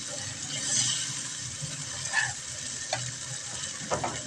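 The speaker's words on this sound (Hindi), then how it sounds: "दही का खुश्क हुआ है, अब इसकी अच्छे से भुनाई करेंगे" Chicken karahi with yogurt fries in a pan as it is stirred, giving a soft steady sizzle with scattered scraping and clinking from the utensil against the pan.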